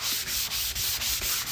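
Hand sanding on the body of a 1966 Ford truck with 220-grit sandpaper gives a close, steady hiss, broken by short regular pauses as each rhythmic stroke changes direction.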